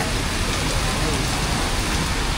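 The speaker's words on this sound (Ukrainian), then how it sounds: "Дощик іде." Steady, heavy rain pours down on a street in Vietnam without letup, a dense wash of hiss and splatter close around.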